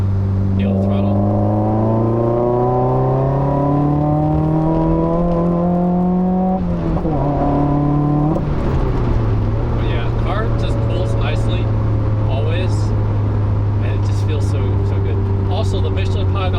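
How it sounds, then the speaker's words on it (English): A 2015 Subaru WRX engine pulls after a downshift to third gear, its drone climbing steadily in pitch, dipping briefly during a gear change, then settling into a loud, even cabin hum. "Let's do a downshift to third gear"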